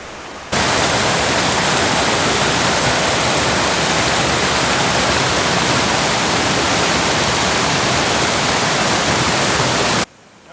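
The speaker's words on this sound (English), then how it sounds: "There's a waterfall over there we're gonna go look at" Steady, loud rushing roar from a waterfall during an off-trail mountain scramble on a backpacking trip, broadband and unbroken for about ten seconds, with no voices.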